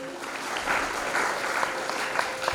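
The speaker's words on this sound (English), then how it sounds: "Applause to all of you." An audience claps steadily at a talk, a dense patter of many hands that holds moderately loud and even for the whole moment, with a few sharper individual claps standing out.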